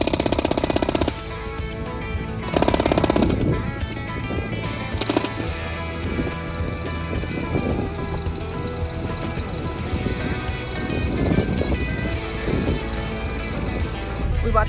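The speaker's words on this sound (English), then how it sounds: "pounding it into the ground using the pneumatic post pounder" Pneumatic post pounder driving fence posts into the ground from a fencing trailer, a loud sustained mechanical pounding with rumbling bursts that runs throughout the stretch.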